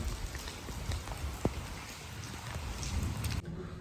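Steady rain falls and patters on a surface in a Pakistani village, constant and close, with an occasional louder drip and a sudden cutoff near the end.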